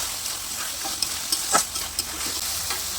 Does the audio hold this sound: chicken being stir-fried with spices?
yes